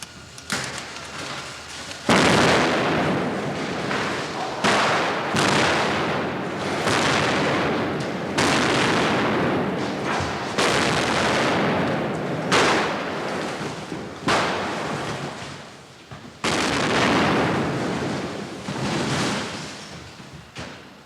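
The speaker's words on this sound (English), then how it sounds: "extra cameras are brought in to capture the final explosion" Special-effects explosion staged for the 1983 film Superman III, a long sustained roar of blasts and rumbling debris with repeated loud bursts and brief lulls, thundering throughout with no talk.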